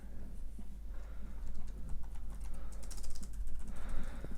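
Fingers type on the keyboard of a Dell Latitude D820 laptop, a fast, steady run of light clicky keystrokes close up over a low constant hum.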